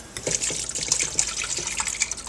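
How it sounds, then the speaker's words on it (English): Liquid jelly mixture is poured into a jelly maker, a close, bubbly trickling and splashing stream with fluttering gurgles, continuing steadily without voices. "we're going to pour this whole thing inside the jelly maker"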